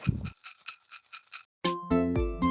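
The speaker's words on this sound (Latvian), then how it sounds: "maracas." Maracas shaken in quick rattling bursts, a brisk run of dry beady shakes up front, then a short gap before a brighter tonal instrument passage takes over.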